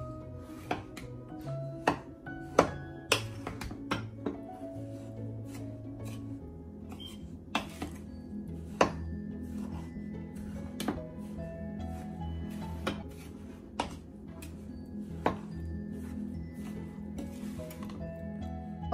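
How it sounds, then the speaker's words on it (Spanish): A spoon or spatula working an Oreo cookie crumb mixture for a cheesecake base, with irregular clicks and scrapes against the bowl, faint and close, alone over soft background music. "Y lo tenemos que mover muy bien hasta que quede totalmente integrado toda la mezcla."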